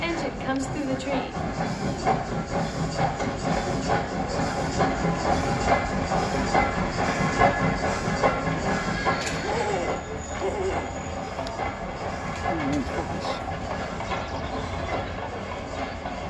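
A train rumbles past nearby with steady clattering and hiss, a continuous loud passage with some voices faintly underneath.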